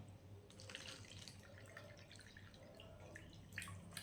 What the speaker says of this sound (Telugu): రెండు గ్లాసులు వాటర్ పోస్తున్నాను